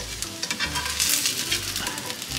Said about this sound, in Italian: e facciamo brustolire da una parte e dall'altra.